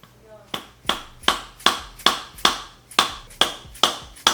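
Hammer taps driving down a CV axle boot on an Acura TSX / Honda Accord, about ten sharp, evenly spaced metallic strikes close by, each ringing briefly before the next.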